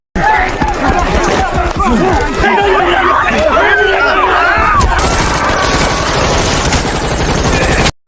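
Rapid gunfire from the film Badland Hunters as a character shoots a group of parents, loud bursts mixed with shouting and crowd chatter, followed by a dense roar.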